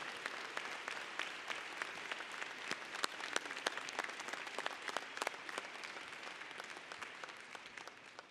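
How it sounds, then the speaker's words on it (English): Commencement audience applauding honors graduates at a winter ceremony, steady many-handed clapping spread across a large hall, sustained and fairly distant with sharp individual claps poking through. "Ladies and gentlemen, join me in applauding these outstanding students."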